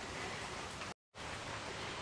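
Heavy overnight rain falling outside, a dense steady hiss of drops with no talk, briefly cut to silence midway before resuming at the same level.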